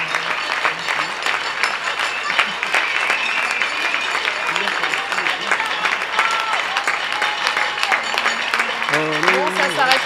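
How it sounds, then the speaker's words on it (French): A crowd applauds steadily and loudly throughout, a dense wash of clapping with voices talking and calling out over it and some higher vocal sounds near the end. "ça applaudit chez vous, ça applaudit plus"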